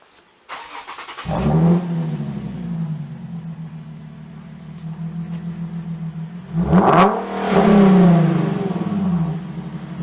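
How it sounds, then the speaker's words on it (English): A Nissan 370Z fitted with a Stillen Gen 3 intake starts up and settles into a loud, close idle, then a sharp rev rises and falls before dropping back to a steady rumble. "You should rev it for me one time."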